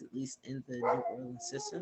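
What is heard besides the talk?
dog barking in the background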